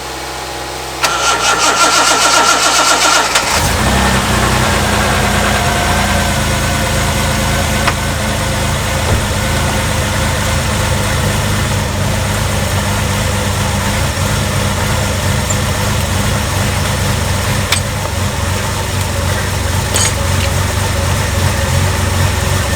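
A Reliant Scimitar car engine cranking briefly and firing up, then settling into a loud, steady, rumbling idle that runs on for about twenty seconds, close by and unaccompanied.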